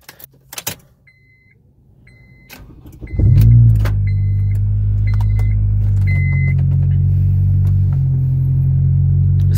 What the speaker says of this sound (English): Get a good cold start for the boys.